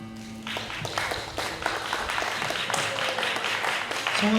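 An outdoor street-busking audience applauds after a poetry recital, sustained steady clapping from a small crowd at moderate distance, with a brief tonal hum at the start and a faint voice near the end.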